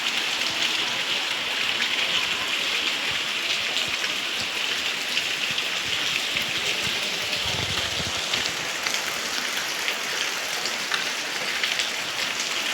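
Steady rain falls throughout, a dense, even patter of drops on surfaces close by, with no talking.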